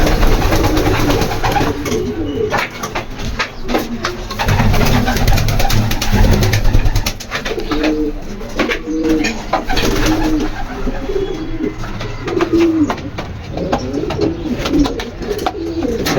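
Pigeons released from a village loft coo repeatedly in low, throaty bursts close by, with wingbeats and rustling under a steady outdoor background throughout.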